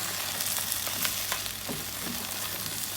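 Vegetables sautéing and being stirred in a pan for a Turkish güveç, a steady close sizzle with scattered utensil scrapes and clicks over a low hum, no talking.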